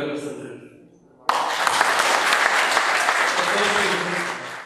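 After a short spoken intro, an audience at an evening anniversary celebration bursts into sustained applause, loud and even, continuing to the end.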